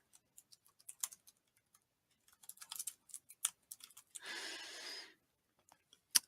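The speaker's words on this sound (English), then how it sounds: "And I'll just take a second to type that." Someone types on a computer keyboard in quiet, irregular clusters of soft clicks close by. A short hissy rustle sits in the middle of the typing.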